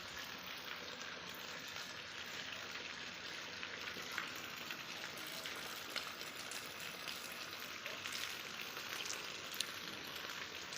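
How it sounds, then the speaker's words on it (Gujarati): Steady rain pours down, a continuous hiss with scattered drops pattering on surfaces, even and unbroken throughout. "ફાઇનલ વરસાદ આવી ગયો છે"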